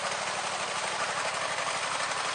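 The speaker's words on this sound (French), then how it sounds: "Et donc je vais démarrer le moteur" A Gravely tractor engine, rebuilt with a fabricated exhaust line, runs at a steady idle close by, with a continuous dense rumble and a rapid even chugging pulse throughout and no talk.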